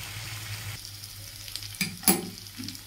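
Potato curry sizzles softly in a pan after ground spice is added, a low steady frying hiss broken by a couple of sharp stirring scrapes near the end.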